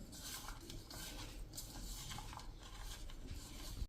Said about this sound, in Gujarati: અને હવે આ બધું આપણે મિક્સ કરી લેશું।